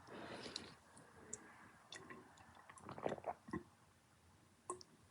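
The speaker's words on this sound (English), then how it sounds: "let me get a drink of water here" A drink of water being taken at a desk, with quiet wet swallowing and squishing sounds, small clicks and a few louder gulps near the end, close to the microphone and alone without any talk.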